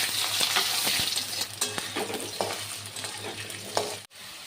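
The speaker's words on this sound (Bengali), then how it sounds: "আর আমি প্রথমে আলুটাকে ভেজে নেব।" Potato pieces frying in hot mustard oil in a pan, with a continuous crackling sizzle, intermittent stirring and scraping clicks, and a steady low hum underneath.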